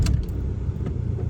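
A 1.9 TDI PD130 diesel car engine turns over and settles into a steady low rumble, with a brief clatter at the start and continuous mid-loud idle throughout.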